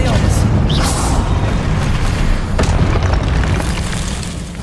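A spell blast in the Hogwarts Legacy video game erupts as a loud, sustained booming roar that rumbles through nearly five seconds, with a sharp crackle near the start and a slow fade toward the end.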